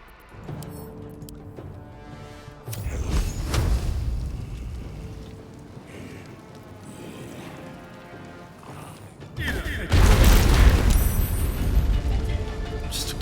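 A fire spell from Baldur's Gate 3 roars into a corridor of flame, with rumbling whooshes and crackling bursts that swell in two loud waves, the second heavier near the end.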